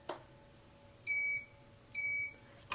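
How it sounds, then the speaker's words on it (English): Quilting machine signaling motion detector mode with two short, clean electronic beeps about a second apart, faint and isolated in a quiet room. "It made two beeps. That's telling me the motion detector mode is now enabled, it's turned on."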